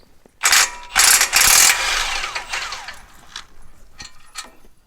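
Hand ratchet working a large brake caliper bracket bolt on a Ford Raptor during a brake and rotor job: a few loud, close bursts of clicking and grinding, then quieter fading clicks.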